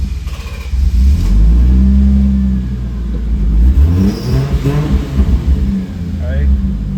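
A Lexus IS200 with a home turbo build rumbles loudly close by, with a low engine drone and rising revs, while someone talks over it.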